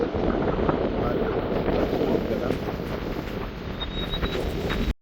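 Strong coastal wind during a storm at Jaffna, Sri Lanka buffets the microphone in a constant, loud roar, with a muffled background wash like surf along the shore.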